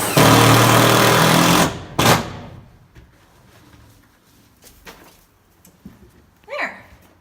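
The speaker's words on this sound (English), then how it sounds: "I always love a reason to use power tools." A loud power tool driving screws whirs at full speed for nearly two seconds, stops, then bursts briefly again before quieter handling noises, while a hay rack is installed.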